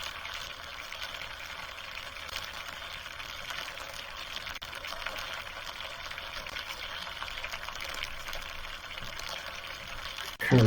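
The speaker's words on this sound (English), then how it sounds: "Currently frying pork chops." Pork chops sizzle in a hot pan with a steady, dense crackle and hiss that holds evenly throughout, ending in a louder burst of spatter at the very end.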